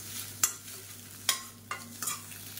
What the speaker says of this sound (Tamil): நல்லா பொரியல் மாதிரி நல்லா அப்படியே பொரிச்சு எடுத்துக்கலாம்